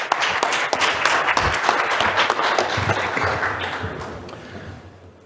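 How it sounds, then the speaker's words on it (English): Full audience applause welcoming a speaker at a clinical lecture on blast injuries, dense steady clapping from a crowd that tapers off over five seconds. "let's give him a great round of applause"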